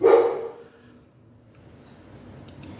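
A dog gives one loud, close bark at the start, then the sound trails off into faint room noise while the dog stays quiet.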